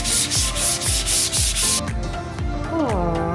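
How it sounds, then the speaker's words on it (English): Light hand sanding with 400 grit sandpaper over a dried coat on an RV remodel, steady rhythmic back-and-forth rubbing strokes close up, loud and regular, the last stretch a bit duller with faint ringing tones underneath. "it's time to do a little light sanding with some 400 grit sandpaper"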